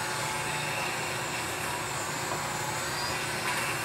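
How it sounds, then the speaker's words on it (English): A Dremel rotary tool fitted with a small polishing mop, cleaning fuzz out of grooves in a CNC-routed piece, whirring in a continuous, steady high-speed drone close by. "I use this little mop on my Dremel to do this."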